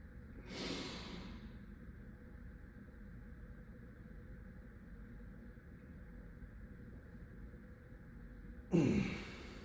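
Heavy breathing between sets of a leg workout: a sharp forceful exhale near the start and another strong breath near the end, with quiet low background hum in between.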